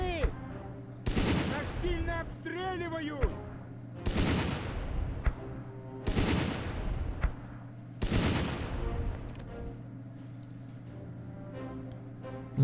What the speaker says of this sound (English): Damn, more of those mortars.